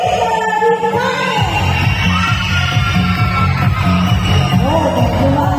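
A crowd at a school program yells, whoops and shouts in a dense, continuous roar that holds steady and loud throughout, with individual voices rising and falling over the din.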